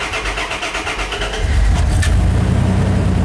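First-generation Dodge Ram with a Cummins diesel settling into a loud, rough idle after starting, a steady low throbbing clatter close by that thickens and deepens partway through.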